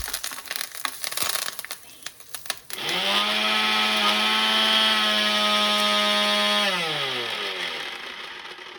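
A mixer grinder whirs loudly as it grinds cooled tempering for a ridge gourd chutney, starting after a few seconds of clatter and running steadily at close range before spinning down near the end.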